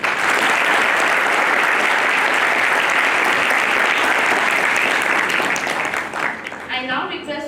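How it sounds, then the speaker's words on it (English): An audience at a law school orientation applauds loudly and steadily, a dense wash of many hands clapping that holds for several seconds before thinning out near the end. "Please give a huge round of applause for Honorable Mr. Salman Khurshid sir."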